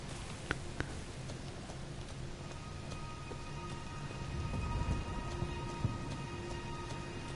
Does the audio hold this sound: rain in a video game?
yes